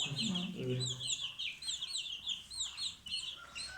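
A white Chabo hen clucks softly over a stream of high, rapid peeping from newly hatched chicks, with a low voice briefly heard at the start.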